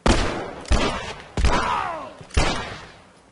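Four heavy gunshots from The Last of Us game, each a sharp loud blast with a long rumbling decay, spaced roughly a second apart.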